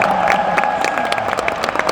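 An audience at a talk applauds warmly, a brief burst of dense, steady clapping with a few cheers and a sustained tone ringing underneath.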